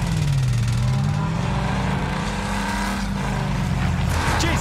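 Vehicle engine in the Warzone Pacific video game on the Caldera map, a loud continuous motor drone with rising and falling pitch as it drives, close and steady throughout.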